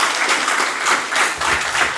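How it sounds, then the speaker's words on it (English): A crowd at a Long Island meet-and-greet event gives a loud, dense round of clapping that pulses slightly over two seconds, with no talk over it. "Please give them a round of applause"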